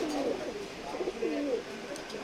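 Pigeons coo in rolling, repeated calls at a busy pigeon market in Khulna, close and fairly clear over a low hum of background noise.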